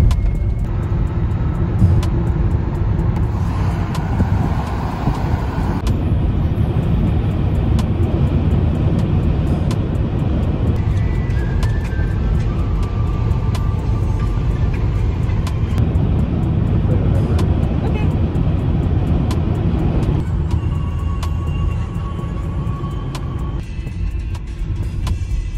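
A car drives on a long road trip toward Stanley, with a steady cabin drone of engine and tire noise that holds evenly throughout, close and continuous, with little talk.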